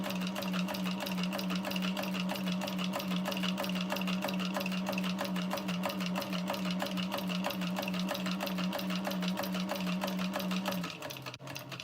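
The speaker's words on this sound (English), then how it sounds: "So I'll top stitch the edge without tape." A sewing machine runs steadily while top stitching along the edge of a tote bag, a close, continuous mechanical whir with a strong buzzing hum that holds even for about eleven seconds before stopping abruptly.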